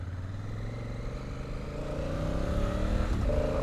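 A Honda Africa Twin motorcycle engine accelerates, its throbbing exhaust note climbing steadily in pitch and loudness, close and alone without talk.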